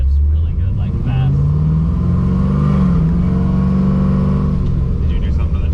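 A supercharged LSA-swapped 1972 Monte Carlo accelerates hard, its engine roaring loud and close with rising pitch and quick gear changes, while people talk over it.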